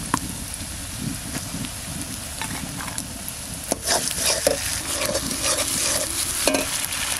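Ground spice paste stirred into a hot pan of chicken curry with cumin and onion, steady loud sizzling and frying with repeated scraping stirs throughout, no voices.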